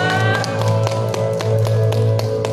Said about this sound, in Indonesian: Semuanya tepuk tangan dong.